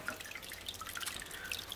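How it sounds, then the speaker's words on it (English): Water pours from an aquarium filter into a rosy barb tank, splashing and dripping steadily onto the agitated surface, a continuous bright trickle with no talking. "Got water pouring out of the filter and this is really agitating the water surface here."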